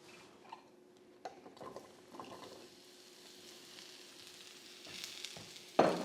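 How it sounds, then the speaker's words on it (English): Mushrooms dropped into hot oil in a pan sizzle faintly and steadily, with scattered clicks and scraping stirs and a louder clatter at the end. "we instantly heard some sizzle"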